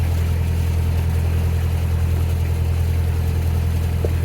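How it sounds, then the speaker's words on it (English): Canal narrowboat engine passing by, a steady, loud low diesel drone with a constant hum, holding even throughout without any talk. "it's that Rose narrowboat from earlier on. He went past."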